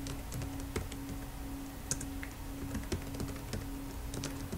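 Fingers type a title on a computer keyboard, a quiet, close run of irregular clicking keystrokes with a few sharper taps, and no voice over it.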